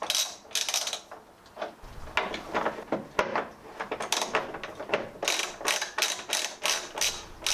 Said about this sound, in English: undo the bolts holding the filter box in, and these are 10mm.